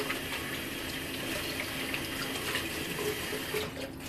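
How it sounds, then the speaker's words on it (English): A kitchen tap runs steadily in a home kitchen while hands are washed under it. The water makes a close, continuous hissing splash that stays fairly loud and constant throughout, with no talking. "So I think I'm gonna wash my hands here"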